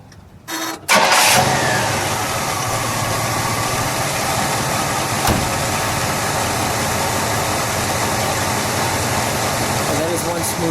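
A 1969 Pontiac Grand Prix Model J, an original-condition survivor, cranks briefly, fires up loudly, and settles into a steady, smooth idle that holds to the end, with occasional voices nearby.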